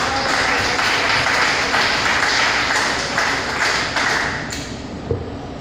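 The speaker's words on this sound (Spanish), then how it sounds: "Aplauso al Señor." Sustained clapping from a church congregation fills the space, a loud, dense wash of applause that gradually thins toward the end.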